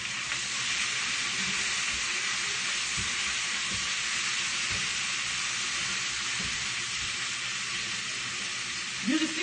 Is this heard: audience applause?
no